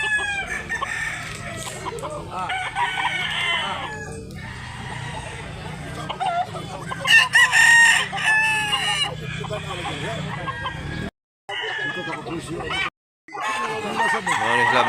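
A flock of about 12,500 native chickens at a farm in Mantalungon, Barili, Cebu fills the air with dense, continuous clucking and repeated rooster crows, close and loud, with occasional voices speaking and a couple of brief drops to silence.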